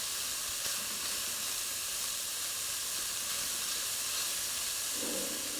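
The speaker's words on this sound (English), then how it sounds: "We're going to saute the sausage." Sausage sautés in a pot for Creole gumbo, giving a steady, even hiss that holds for several seconds with no talking.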